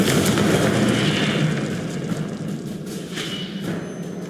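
Confringo blasting spell in Hogwarts Legacy: a loud, sustained fiery explosion roar with crackling debris, strongest at the start and slowly tapering off over several seconds.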